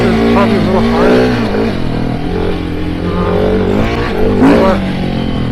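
A 2021 KTM 690 Enduro motorcycle on a dirt ride, its engine revving loud and close in rising and falling surges while someone talks over it.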